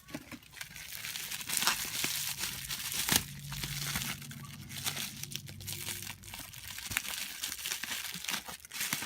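Cardboard subscription box of wild medicine crystals being cut open, a steady crinkling and scraping rustle with a sharp snap near three seconds, close and fairly loud, no talking.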